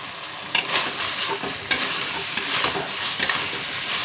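A mustard-poppy curry with prawns and taro stolons is stir-fried in a pan, with loud, close sizzling and a few firm scraping strokes of the spatula.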